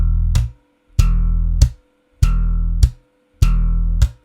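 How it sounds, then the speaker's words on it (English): A slap bass plays an open string followed by a left-hand slap, repeated four times in a steady rhythm: a sustained low open note, then a sharp percussive slap, close and loud with no talking. "exercise 1 is basically getting used to using an open string and then followed by a left hand slap"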